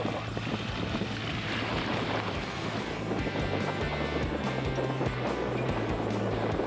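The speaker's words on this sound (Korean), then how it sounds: "이 바람 진짜 세다" Strong wind roars steadily across the microphone aboard a racing sailing yacht, mixed with the wash of water against the hull and a low engine-like drone, loud and continuous without a break.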